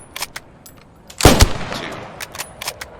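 A single rifle shot fired from a kneeling position cracks loudly outdoors and rolls off into a fading echo, with small clicks and handling noises before and after.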